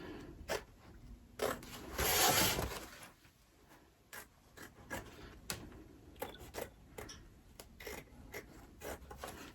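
Scissors cut fabric for an in-the-hoop zipper clutch bag, with one loud, drawn-out rasping cut followed by a scatter of short, crisp snips and rubs, close up and without talk.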